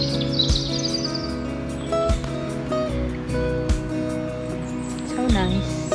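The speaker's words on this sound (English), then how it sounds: "Listen to the sound of the birds." Birdsong chirps and trills over a steady outdoor backdrop with faint lapping water at Dorney rowing lake, moderately near.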